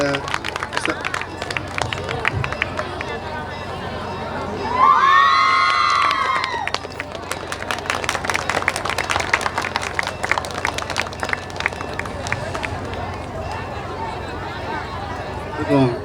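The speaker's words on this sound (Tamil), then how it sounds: "ஒரு கரகோஷத்தை கொடுக்கலாமா எல்லாருமே?" At a temple dance awards event in Echur, a crowd cheers and shouts, with children's voices and scattered clapping, and a brief whistle-like cry rises midway. Voices talk over the noise.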